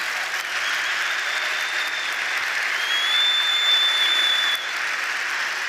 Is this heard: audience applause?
yes